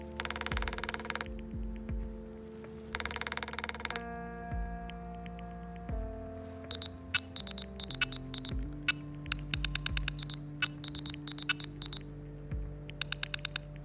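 A Nothing Phone (1) plays its ringtone, a sequence of synthetic glassy electronic tones and rapid clicky ticking pulses in shifting rhythmic patterns, clear and close with no speech.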